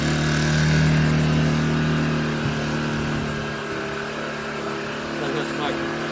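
A Gentrax EC800i 800W inverter generator runs close by with an uneven, stumbling engine note from heavy misfiring, and voices talk over it throughout.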